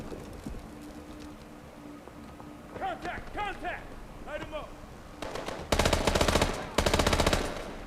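Bursts of video game machine gun fire crack out in two loud, dense volleys late in the scene, preceded by quieter shuffling and a few brief voice-like calls over a low ambient hum.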